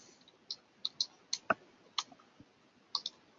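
Typing on a computer keyboard gives sparse, irregular clicks, crisp and close, with pauses between short runs of keystrokes and no talk.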